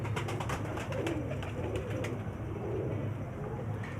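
Teddy pigeons, a male and female pair, coo steadily and close by in a low, continuous murmur across the whole stretch, with no talk over them.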